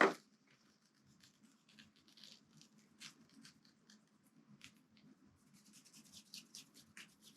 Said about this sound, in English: I'm going to add a little bit more salt there to give the sand a little bit more texture